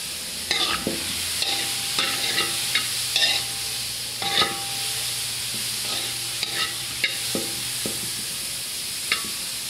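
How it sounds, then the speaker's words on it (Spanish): Diced carrots sizzle steadily in a frying pan while being stirred for chow fan, with a constant close hiss broken by sharp scraping clicks of the utensil against the pan. "saltearlas un poquito ahí."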